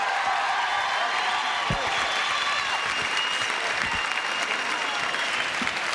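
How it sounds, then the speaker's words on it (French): Loud, sustained applause from a television studio audience welcoming Sophie Favier to her seat, a thick continuous roar of clapping with faint cheering mixed in and no speech over it. "Applaudissements pour Sophie Favier qui vient de s'installer."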